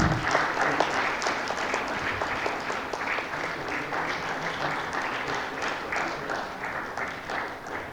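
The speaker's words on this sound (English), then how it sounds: "May I have a round of applause, please?" A conference audience breaks into loud, sustained applause, dense clapping that holds steady for several seconds with no talk over it.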